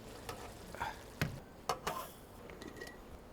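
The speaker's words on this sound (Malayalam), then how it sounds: "ഈ അരിഞ്ഞു വെച്ച തേങ്ങ ഇത് വറുത്തിട്ട് ശകലം കടുക് കറിവേപ്പിലൊക്കെ കൂടെ ഇട്ട് നല്ലതായിട്ട് നമുക്ക് എടുക്കാം" Chopped coconut frying in oil with mustard seeds and curry leaves for a Kerala-style beef curry, a soft steady sizzle broken by a few sharper crackles and stirring sounds, with no talk over it.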